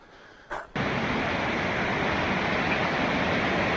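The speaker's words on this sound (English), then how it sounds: "Beautiful river." A river in the snowy, thawing woods near Algonquin Peak, New York, rushing in a steady broadband roar that swells in loudly after a brief quieter moment and then holds constant.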